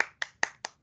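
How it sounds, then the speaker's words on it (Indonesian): Five sharp, separate hand claps from students in a mathematics lesson, evenly spaced about a fifth of a second apart, quiet and close with silence between each. "Tepuk tangan dong buat semuanya. Tepuk tangan, Nak."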